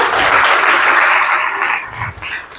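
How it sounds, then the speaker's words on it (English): An audience claps together at a motivational talk, a loud, dense burst of applause that holds steady and then thins out toward the end. "Let's clap for all of you"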